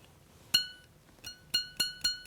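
Tensioned piercing saw blade, clamped in a jeweller's saw frame, plucked several times, giving sharp, bright metallic pings that ring briefly, quiet and close, with no talk.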